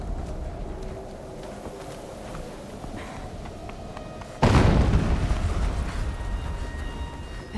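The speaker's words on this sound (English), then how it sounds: "An explosion." Snowy-area explosion in Horizon Zero Dawn Remastered, a sudden loud broadband blast striking partway through after quieter game ambience with faint footsteps, then a long rumbling decay.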